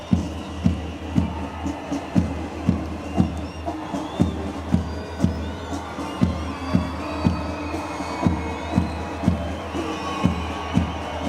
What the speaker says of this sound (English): let's cheer them on as they march with the unity and strength